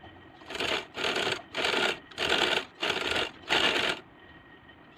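Sewing machine stitching baby frock fabric with paper on top, running in six even bursts of loud buzzing close up, separated by brief pauses, over a low background hum.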